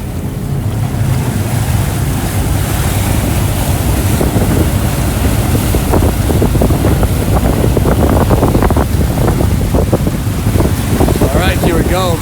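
Steady rushing wash of water and engine rumble from a boat under way, with wind buffeting the microphone throughout and a faint voice near the end.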